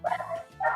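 A dog gives two close, high-pitched barks or yips, the first drawn out slightly and the second following after a short pause, heard on its own in an indoor setting.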